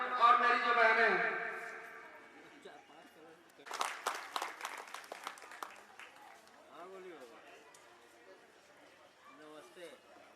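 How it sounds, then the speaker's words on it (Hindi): An audience at a school inauguration ceremony in Khalilabad breaks into a burst of clapping after someone speaks, the applause fading into scattered claps and crowd chatter. "मैं सभी से अनुरोध करता हूं कि ताली बजाने में आप लोग कंजूसी ना करें"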